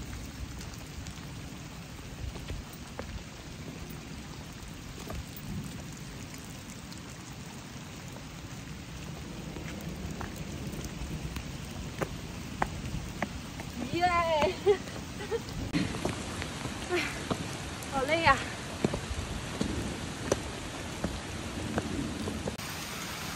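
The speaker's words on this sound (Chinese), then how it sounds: "刚刚还那么热，现在下雨了。" Steady rain falls on a rural village house in the mountains, a dense continuous wash with occasional low rumbles of thunder, while people talk over it in the second half.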